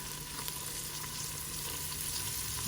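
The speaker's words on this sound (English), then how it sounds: "let that cook until the onions are almost like translucent" Chopped onions cook in a pot as the base for creamed spinach, giving a steady, close sizzle and crackle that holds at an even level throughout, with no talking.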